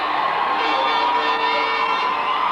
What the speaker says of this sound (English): And listen to that cheer from that foul from Gerald Griffins.